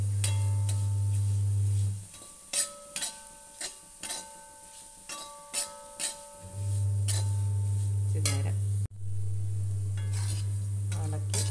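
Chilli powder, asafoetida and fenugreek being stirred in a hot oily pan for beetroot pickle, a loud steady sizzle broken by a stretch of rhythmic scraping strokes of a spoon against the pan, then the sizzle resumes.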